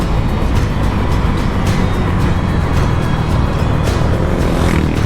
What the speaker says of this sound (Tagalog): Walang problema sa motor natin. Kahit ibirit pa natin.